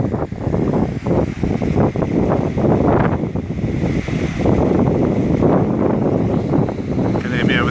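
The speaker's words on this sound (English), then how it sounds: "Can you hear me over the wind? It's a bit blustery today." Blustery wind buffets an outdoor microphone beside a stone canal lock, a loud, continuous roar with gusting swells throughout, with a voice faintly talking underneath.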